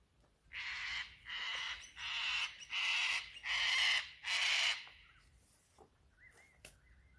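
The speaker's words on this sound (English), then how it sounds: "The white cockatoos have just arrived up in the tree." White cockatoos perched up in a tree let out six loud, harsh squawks in a steady run, followed by a few fainter, scattered calls as the flock settles.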